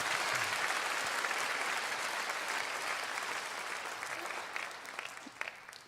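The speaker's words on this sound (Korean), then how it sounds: "또 서로를 위하여서 힘찬 격려의 박수를 부탁드립니다." Sustained, dense applause from an audience at a Christian workplace missions conference, steady and loud at first and thinning slightly toward the end, with no talk over it.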